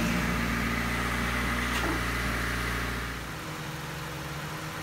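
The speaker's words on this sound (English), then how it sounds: "So let's go ahead and start the engine." Honda Civic with a D16Z6 engine starting up, a loud steady cranking-and-running drone that settles into a quieter, even idle after about three seconds, heard up close with no talking.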